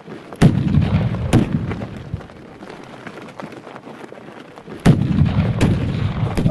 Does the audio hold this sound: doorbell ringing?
no